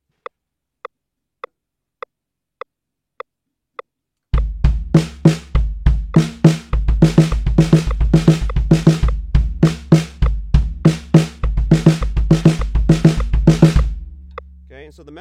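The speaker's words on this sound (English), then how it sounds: "now we're going to put on a metronome." A metronome ticks alone at a steady pulse for about four seconds, then a drum kit joins in a hand-and-foot practice pattern of kick and hand strikes, loud and close, locking to the click.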